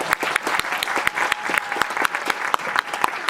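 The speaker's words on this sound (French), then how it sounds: "alors applaudissez-vous" A talent show audience in Tours applauds, bright crisp claps pulsing in a lively, uneven rhythm from a crowd, with faint voices beneath.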